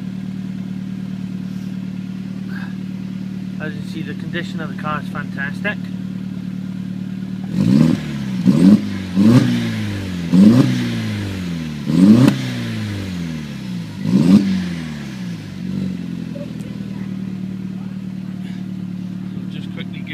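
A 2002 SEAT Leon Cupra 20V turbo engine idles steadily and is revved in six quick blips, each one rising and dropping back, with someone talking briefly before the revs.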